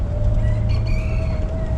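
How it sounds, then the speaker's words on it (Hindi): A rooster crowing in the jungle of Jim Corbett National Park, a single call rising over steady low background rumble, moderately near. "ये मुर्गा बोल रहे हैं"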